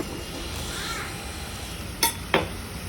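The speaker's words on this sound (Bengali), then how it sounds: "টমেটোগুলোকে খুব ভালো করে গলে মানে গলে যেন যায় সেভাবে নাড়তে হবে" Tomatoes frying in oil while being stirred for a rohu fish curry, a steady soft sizzle throughout with two brief sharp scrapes of the utensil against the pan near the end.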